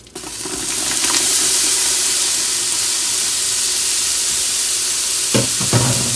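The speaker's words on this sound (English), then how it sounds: "it looks like it is hot enough, so I'm going to go ahead and dump in my peppers. Or should I say my onions." Onions dropped into a hot Instant Pot burst into a loud, close sizzle that settles into a steady hiss, with a couple of stirring clunks near the end.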